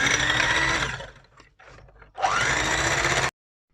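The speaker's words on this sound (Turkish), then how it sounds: "Mikserle çırpıyoruz köpürene kadar." An electric hand mixer whisks eggs and sugar, whirring loudly, dips briefly as it slows, then whirs again before cutting off abruptly.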